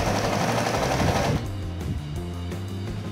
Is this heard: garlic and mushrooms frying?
no